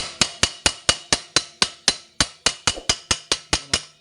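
Metal hammer blows on the rusty center stand of a Honda Click 125 scooter, about fifteen sharp ringing strikes in a quick, fairly even rhythm, close and loud with no talk.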